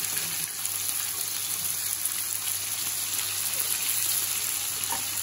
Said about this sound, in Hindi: इस तरह से हमने सारी टिक्कियों को फ्राई कर लेना है।